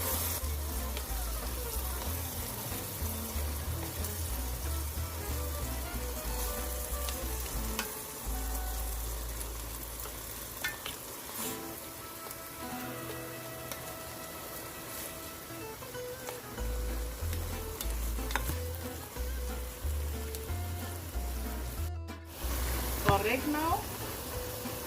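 Ground beef with tomato paste sautéing in a pan for a cavatappi pasta dish, a continuous close sizzle and frying crackle with occasional stirring scrapes and clinks, and brief running water near the end.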